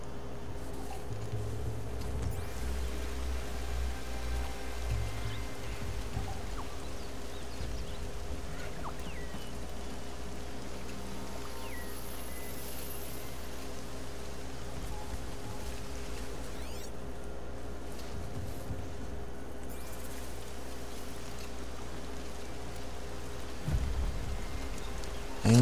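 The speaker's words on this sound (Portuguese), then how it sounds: "Chuva não é ruim." Steady rain falls in the Horizon Zero Dawn video game, a dense, continuous hiss of raindrops with low rumbling underneath, holding evenly throughout with no voices.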